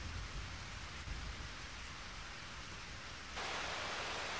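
Steady rain falls in the video game Eternal Sonata, a continuous hiss of rainfall on surfaces that grows brighter and louder in the last second, with no talking.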